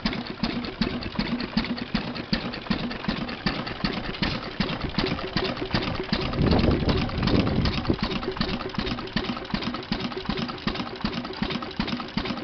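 An antique stationary engine running steadily at a fixed rhythm of rapid, even mechanical beats, close and continuous, with a brief swell of heavier rumble partway through.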